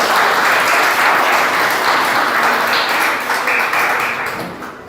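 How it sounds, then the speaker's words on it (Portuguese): A church congregation claps together in worship, a loud, dense wave of applause that holds steady and then begins to thin and fade toward the end. "Palmas para Jesus,"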